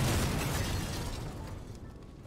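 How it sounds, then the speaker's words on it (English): A gas explosion in a video game booms as a loud, broad blast that fades over about two seconds into a dull rumbling decay. "I heard a deafening explosion. That was a gas explosion."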